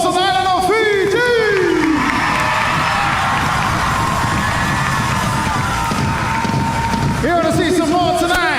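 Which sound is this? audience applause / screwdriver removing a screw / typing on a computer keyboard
audience applause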